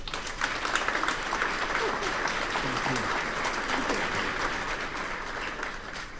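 A crowd at the DEF CON 31 Recon Village applauds a speaker taking the stage at a talk on AI in OSINT. The clapping is moderately loud and sustained, with some voices and cheering mixed into it.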